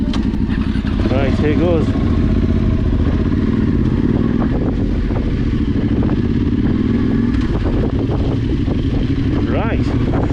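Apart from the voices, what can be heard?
motorcycle riding through winter ruts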